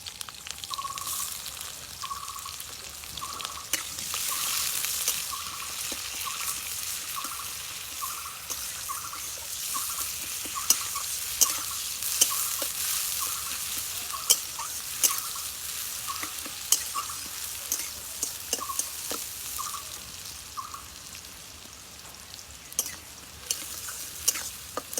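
Chopped onion fries in a pan while cooking fig curry, a steady close sizzle running throughout with a rhythmic series of light clinks and scrapes from stirring and occasional sharper taps.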